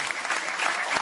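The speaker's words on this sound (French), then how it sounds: "Applaudissez-vous, les femmes" Audience applause during a French stand-up comedy sketch, a dense steady patter of many hands clapping together for just over a second, fairly close and even in level.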